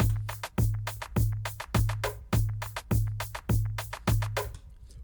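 A looping Afrobeat drum pattern with a deep kick on each bar and busy syncopated hits on top, steady tempo, loud and close with no voices.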